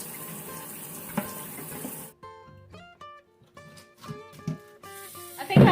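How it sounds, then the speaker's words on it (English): Tap water runs into a sink as an old bird feeder is washed out with soap and water, the rush broken by clinks and sloshing, with intermittent splashes near the end. "so you have to wash it out real good with soap and water."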